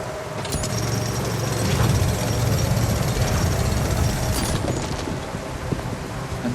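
Mechanical drilling into a mineral vein in the video game The Alters, a steady loud grinding rumble with hammering texture running throughout, alone.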